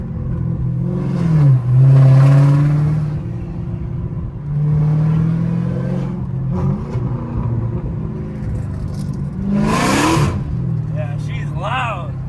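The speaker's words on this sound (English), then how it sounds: "I've never had a car this loud." A loud Hellcat Redeye engine with catless mid pipes revs repeatedly, rising and falling in pitch with a harsh rumbling exhaust, while a person talks over it.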